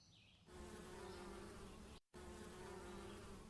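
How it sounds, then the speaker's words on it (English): A bee buzzes in a steady, close drone that starts after a brief quiet moment, holds a constant pitch, and cuts out for an instant before resuming. "Mother Bear hears a bee buzzing."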